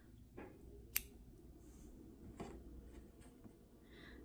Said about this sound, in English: so I will cut the yarn